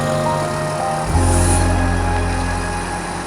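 A car's engine hums from inside the cabin. A low, steady drone strengthens after about a second as it pulls away, then holds at an even level, with no talk.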